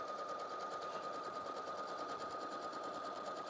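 A sewing machine runs steadily while stitching rows through fabric, a fast even mechanical whirr with rapid needle ticking that holds constant throughout, close and alone with no talk.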